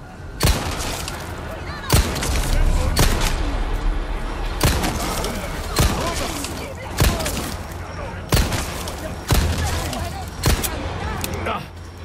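Gunfire in the Resident Evil 4 demo video game: about nine sharp, loud shots spaced irregularly over a steady game backdrop, with someone talking between them.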